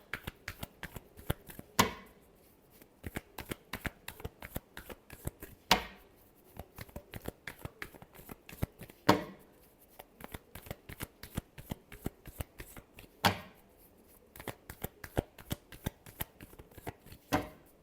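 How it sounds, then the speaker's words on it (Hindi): Tarot cards are shuffled by hand without pause, a close, brisk riffle of rapid flicks broken by a sharper snap every few seconds. No one speaks. "last shuffle"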